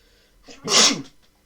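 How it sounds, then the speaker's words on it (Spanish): A single loud, close human sneeze with a short breathy intake before it, followed by near silence. "Voy a estornudar."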